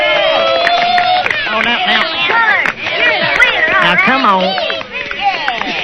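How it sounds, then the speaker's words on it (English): A crowd cheers and claps in welcome for an arriving man, a busy, boisterous mix of whoops, excited voices and clapping, with someone speaking over the noise. "Yeah, applause."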